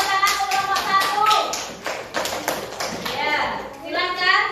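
Classroom applause for the first student group, a burst of scattered hand claps from many pupils with children's voices chattering over it throughout.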